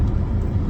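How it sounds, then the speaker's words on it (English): Deep, loud rumbling roar of a powerful car engine, heavy and steady throughout a brief moment with no break. "You can hear how powerful the car is."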